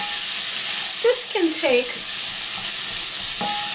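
Beets and greens frying and stirred in a small pan over medium-high heat, a loud steady sizzle with a few scraping stirs, while a person talks over it.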